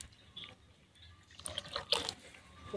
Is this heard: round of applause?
no